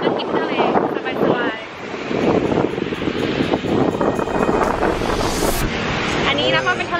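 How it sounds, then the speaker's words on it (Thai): Loud wind buffets the microphone while sea waves surge and wash at a local beach in Hawaii, with someone talking over the roar at the start and end. "อันนี้นะก็เป็นทะเลที่แบบเป็นโลคอลมากๆนะคะ"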